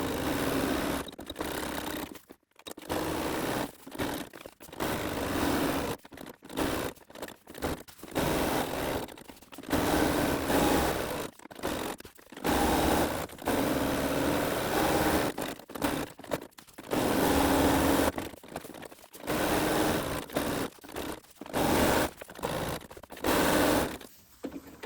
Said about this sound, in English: So we're stitching now, top stitching all the way around the outside, a couple of millimetres in from the edge.